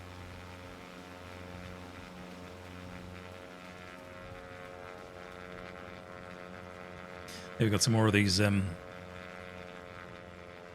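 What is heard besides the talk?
Cessna 172 propeller plane engine in flight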